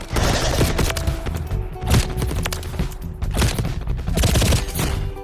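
A light machine gun in Warzone Mobile fires several heavy, rapid bursts, loud and close with thumping reports and brief pauses between strings of shots.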